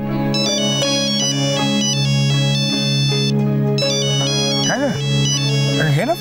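A mobile phone ringtone plays loud and close in a Marathi TV drama scene, a bright repeating electronic melody that runs throughout, with a short swooping tone near the end.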